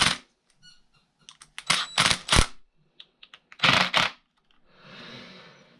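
Small screws are driven and tightened on a Traxxas Wide-Maxx RC car, giving close, crisp ratcheting bursts and clicks in irregular clusters, ending in a softer scraping rustle.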